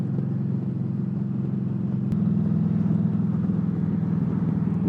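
A motorcycle engine drones steadily while riding, a continuous low rumble with wind noise that rises slightly in pitch and loudness midway, close and constant.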